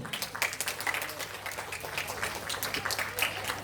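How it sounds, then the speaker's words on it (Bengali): Audience applause for children receiving medals at a cultural stage event at Rabindra Sadan, a steady patter of many hands clapping at moderate distance, with a voice speaking over it. "একটু জোরে হাততালি ওদের জন্য।"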